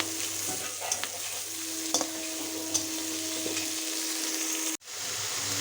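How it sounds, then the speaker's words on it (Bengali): Chopped onion, salt and green chillies stirred in a hot pan: a constant close sizzle with scattered light spatula clicks and scrapes, briefly cutting out just before the end. "সবগুলোকে সুন্দর করে নাড়িয়ে চাড়িয়ে মিশিয়ে নিচ্ছি"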